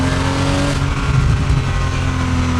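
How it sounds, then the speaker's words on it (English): Porsche Boxster 986 with a flat-six engine, its exhaust giving a low rumbling burble as the throttle is lifted, loud and close with a steady droning engine note throughout. "Even like you get that little burble when you let off."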